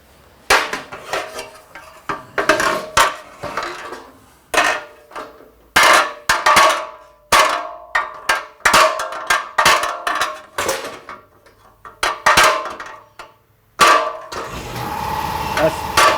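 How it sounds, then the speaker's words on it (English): Repeated sharp metallic hammer blows from ball peen hammers beating out a waterjet impeller blade ring out in irregular bursts, close and loud, with brief pauses between strikes. "the rest of that there we're going to hammer out with a couple ball peens."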